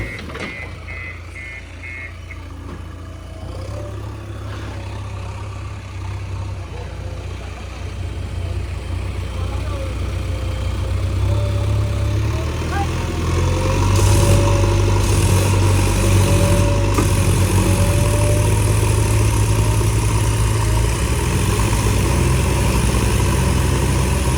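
A JCB backhoe's heavy diesel engine runs steadily, its rumble growing louder and nearer partway through, with faint beeping early on.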